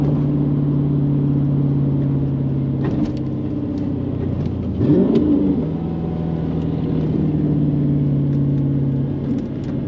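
A Mercedes C55 AMG with a six-speed manual drives along, its engine holding a steady, loud drone with a brief rev blip midway before settling back to cruising.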